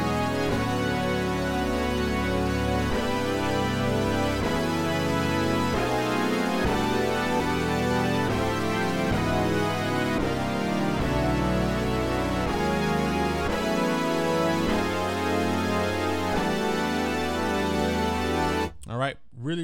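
A synth brass preset from Logic's ES2 synthesizer plays steady sustained chords that shift every second or so, loud and continuous with no talking, cutting off abruptly near the end.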